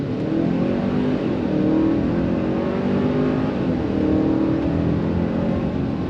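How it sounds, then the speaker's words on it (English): A 2025 Hyundai Santa Cruz XRT pickup with a dual-clutch transmission accelerates hard from a stoplight, its engine droning loud and steady from inside the cab as revs climb and shift for several seconds. "as soon as this light turns green, we are going on throttle."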